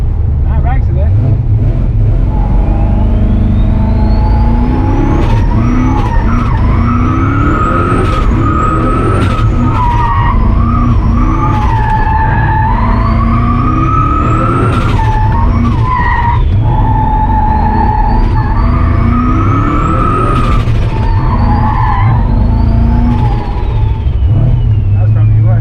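A turbo V8 Dodge pickup truck drifts with its engine revving hard and its tyres squealing in long rising and falling wails, loud and continuous throughout.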